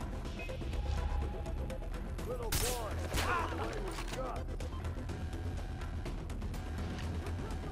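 Gunfire rings out in the video game Far Cry 3, with scattered shots and a sharp burst near the middle over a constant rumbling vehicle bed, while a player talks over it.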